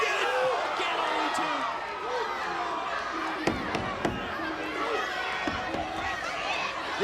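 A standing-room-only wrestling arena crowd on its feet during a King of the Mountain match, a steady roar of cheering and shouts with a few sharp thumps, running continuously under a commentator's voice.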